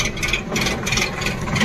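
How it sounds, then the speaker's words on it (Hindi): A Maruti Suzuki WagonR with a company-fitted CNG conversion idles on CNG with the air conditioning on, giving a steady, close engine hum and whir that holds level throughout with no talk. "तो गाड़ी स्टार्ट हो गया फ्रेंड्स सीएनजी के अंदर भी"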